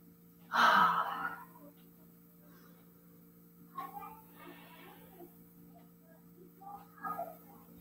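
Slow, deep group breathing during a bird-themed yoga session: one loud, close inhale or gasp near the start, then softer, breathy exhales spaced several seconds apart over quiet background hum.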